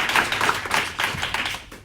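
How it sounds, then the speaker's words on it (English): A small audience at a business founders' networking briefing gives a short burst of clapping, with close, uneven claps that taper off quickly. "So a big round of applause for Amy."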